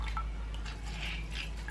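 Water drips from a sheet of newspaper freshly soaked for acrylic pour painting, giving a few soft, faint drips over a steady low hum.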